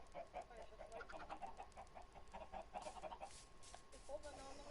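Chickens clucking in the video game Minecraft, a run of quick, repeated clucks at low level, quite faint.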